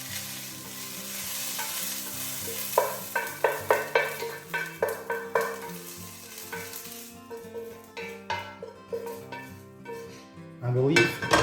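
Chinese chicken curry scraped and scooped from a metal pan into a bowl, with a run of clear, close scraping and clinking strikes over a soft steady sizzle, ending in a louder burst of sizzle.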